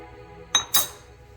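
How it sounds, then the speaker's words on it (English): A spoon strikes the side of a pot of South Indian rice and milk dessert with ghee: two sharp, bright metallic clinks close together, near and clear over a quiet background. "And give it a good stir."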